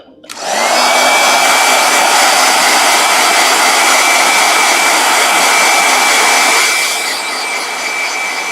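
A blow dryer switches on and runs loud and close with a steady high whine and rushing air, dropping slightly in level near the end, with no talking.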